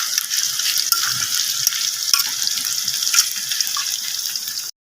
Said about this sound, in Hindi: ऐसे छन्नी की मदद से इसको ऐसे निकाल लेना ताकि इसका जो सारा घी हो वो निकल जाए